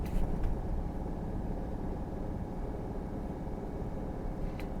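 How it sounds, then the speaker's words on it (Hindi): Car engine revving high at around 2500 RPM while the vehicle crawls at low speed, a steady loud drone heard from inside the cabin without a break. "अब ऐसे में साउंड कितना कर रही है गाड़ी, सुनो।"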